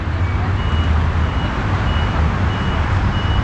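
An Isuzu Spark 3.0S pickup in reverse gear gives a repeating reversing beep over a steady, close engine rumble that holds level throughout.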